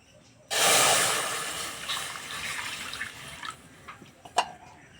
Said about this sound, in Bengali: কড়াই দেবো 1 কেজি গরুর দুধ